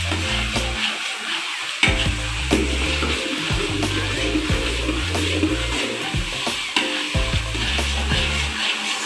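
Garlic sautéing in a pan for chicken ragout risoles, a continuous close sizzle with repeated scraping and stirring strokes of a utensil, under light background music.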